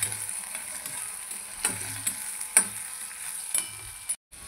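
Tomatoes and onions sautéing in a pan for sev bhaji, a quiet steady sizzle broken by a few soft scraping stirs, close and alone with no voices.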